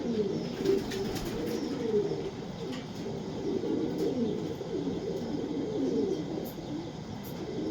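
An imported foreign pigeon coos steadily and close by, a low rolling burbling call repeated throughout with faint background noise and no talk.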